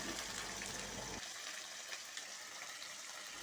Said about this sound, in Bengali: কেটে ধুয়ে রাখা আলুগুলোকে মা একের পর এক ছেড়ে দিয়েছে। আলুগুলোকে একটু সুন্দর করে মা ভেজে নিচ্ছে